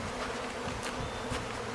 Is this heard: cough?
no